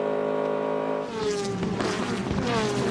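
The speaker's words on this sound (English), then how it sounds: "This is on board with the much lower revs of the V8s from Detroit" Detroit V8 race car engines heard on board at Petit Le Mans in the American Le Mans Series, a low-revving rumble that holds steady, then surges through rough gear changes, loud and close.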